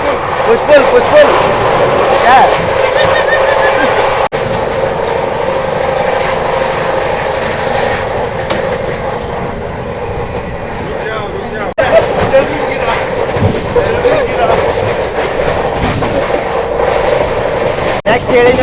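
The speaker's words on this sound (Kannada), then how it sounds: "ಅಷ್ಟು ಸ್ಪೀಡ್ ಹೊಂಟದ ನಮ್ಮ ಟ್ರೈನ್" A Rajdhani Express runs at speed from Delhi toward Hubli, a loud continuous rumble and rattle of rail cars throughout, with a couple of sharp knocks along the way.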